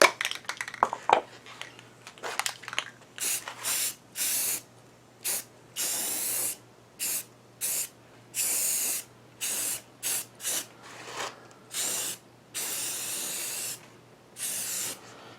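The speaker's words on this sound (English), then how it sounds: "Everyone's born thinking that they know how to spray paint." Rapid bursts from a spray can or spray gun coating a lathe part, a couple dozen short hissing blasts in an irregular on-off rhythm, close and fairly loud, with quiet gaps between and a few clinks early on.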